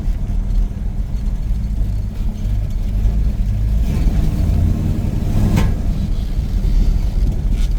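1968 Pontiac Tempest GTO tribute muscle car engine running cold, a loud, steady low rumble heard close with slight throttle swells.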